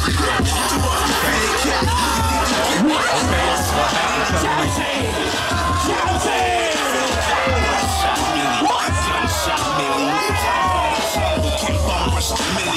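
At a krump dance battle, a packed crowd roars continuously with overlapping shouts, whoops and yells, loud and close throughout with no break, under a thumping low beat.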